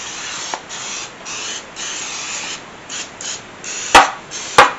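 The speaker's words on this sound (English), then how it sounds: "So using our HCF canola oil," Short hissing bursts of canola oil spray greasing a cake pan, several quick spritzes in a row followed by two sharper, louder blasts near the end, close up with no talking.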